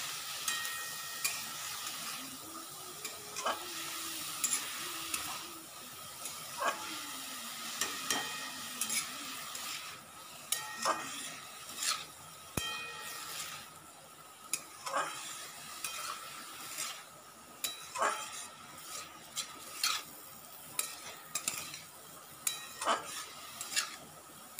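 Saag greens frying and being stirred in a pan for a village-style home lunch, a steady sizzle under repeated scraping and clinking strokes of a utensil against the pan, close and alone.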